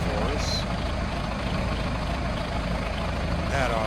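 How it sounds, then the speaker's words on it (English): An old John Deere 3020 tractor idles steadily nearby, a continuous low engine rumble running throughout with no break. "The old 3020 is just sitting here idling"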